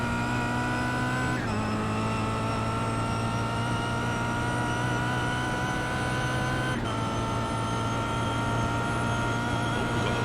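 Race cars in the iRacing sim at Monza, including a Kia Optima: a loud continuous engine drone with high whining harmonics, dipping in pitch twice as gears shift, with no talk.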